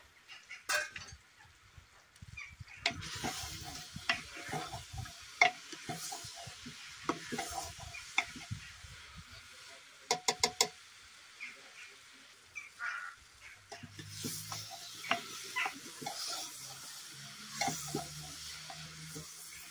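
Kohlrabi pieces frying in a pan, Kashmiri style, with intermittent stirring scrapes and clinks over a soft sizzle, a brief burst of sharp clatter midway and a low rumble toward the end.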